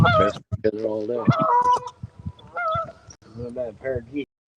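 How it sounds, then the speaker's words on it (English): A pair of geese floating on a river sound off with loud, close, nasal honks in uneven bursts, mixed with a person's voice nearby and gaps of quiet between calls. "That pair of geese floating down there"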